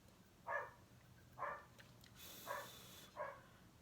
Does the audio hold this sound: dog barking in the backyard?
yes